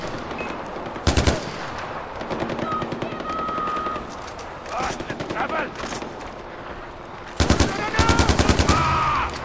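Automatic gunfire from a Far Cry 4 firefight, with several loud, rapid bursts separated by quieter gaps and distant shots scattered between them.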